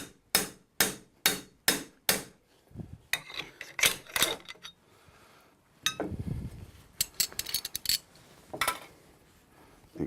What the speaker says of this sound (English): I will countersink this size 2 as well.